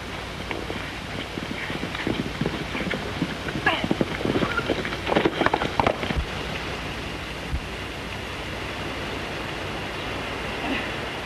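Horse hooves clip-clopping at a 1939 Western film scene, a loose irregular patter of hoofbeats under background music and some talk, moderately loud.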